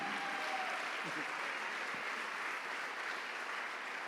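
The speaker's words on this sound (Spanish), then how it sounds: "¿Alguien puede aplaudir la gloria de Dios esta mañana?" A church congregation applauds during a Spanish-language Sunday morning sermon, a dense, steady wash of clapping that holds evenly for about four seconds at moderate loudness.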